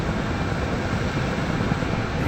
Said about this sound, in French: c'est juste un hélico de transport